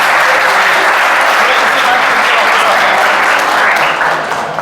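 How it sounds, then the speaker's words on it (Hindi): Audience applause at a coaching class event, a dense steady wash of many hands clapping close and loud throughout, easing slightly at the very end. "तालियां होनी चाहिए।"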